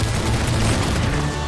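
Rapid gunfire from Roblox Arsenal, including a quick-scoped sniper shot, forms a dense, continuous wash of shots and game noise that stays loud and steady throughout.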